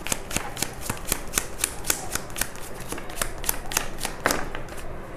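Tarot cards are shuffled and drawn in steady, crisp riffling flicks that continue throughout, close up and alone, with no talking over them.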